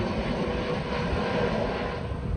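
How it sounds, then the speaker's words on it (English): Airplane passing low overhead on approach to land near an airport in Lake Nona, Florida, a steady broad engine roar holding loud through the whole stretch with no voices. "This is probably the 5th plane that has flown over me so far."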